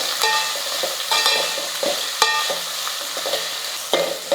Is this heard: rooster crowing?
no